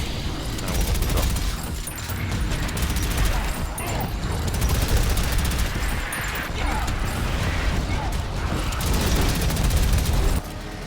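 A machine gun in the shooter Prodeus fires in dense, loud bursts with explosive booms mixed in, continuing for around ten seconds before cutting off near the end.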